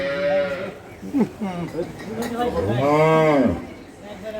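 A dairy cow gives a long, deep, close moo with rising and falling pitch, while someone speaks in the background before and around the call.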